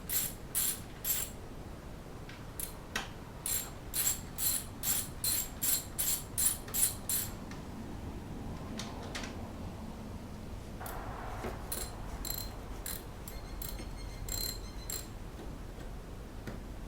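Ratchet wrench loosening the battery terminal nut on a BMW X3: bursts of quick, crisp clicking close by, a long run of strokes, a pause, then a second, sparser series of clicks.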